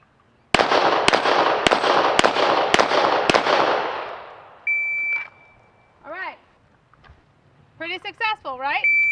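Gunshots at a steel plate rack, six evenly spaced loud cracks about half a second apart with ringing decay, then a timer beep and talking.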